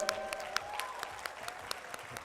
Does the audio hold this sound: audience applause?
yes